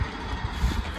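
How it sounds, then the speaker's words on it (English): A tractor working on a field in Lincolnshire gives a low, steady engine rumble with a slight uneven throb, heard briefly at moderate volume with no talking. "The tractor working on the field."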